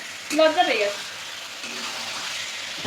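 Chicken stir-fried in a pan for a home-cooked dish, with a continuous crackling sizzle and scraping stirs, while a voice talks briefly near the start.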